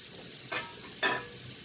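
Onions sizzling as they hit melted fat in a frying pan, a soft steady hiss with two brief louder flares of frying, close by with no talk.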